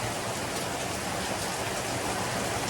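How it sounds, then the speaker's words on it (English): Steady, dense rain pours continuously on a sailboat near a large rock in Misool, Raja Ampat, Indonesia, a close and even wash of droplets with no voices. "Yeah, it's raining"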